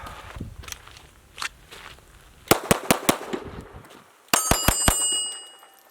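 A .22 pistol fires in two rapid strings of four sharp, close cracks each, with the second string ringing slightly, after quieter handling and shuffling sounds.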